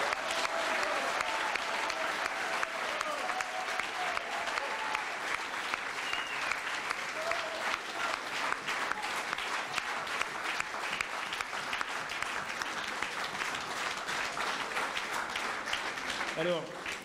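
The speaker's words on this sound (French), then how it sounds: "On peut applaudir pour son émission de samedi dernier." Sustained audience applause fills a political evening rally in Le Chesnay, a steady dense clatter of many hands that runs unbroken for the whole stretch, fairly loud and close.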